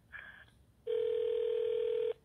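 A telephone placing a call back: a short tone, a brief gap, then one long steady electronic tone lasting over a second, clear and close.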